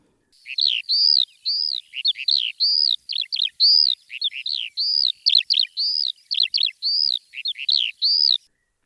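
Orchestral instruments imitate songbirds, a lark, thrushes and a nightingale, in Strauss's Bourgeois Gentilhomme music: bright, high, clear chirping phrases repeat rapidly and steadily, close and alone, with no lower accompaniment beneath.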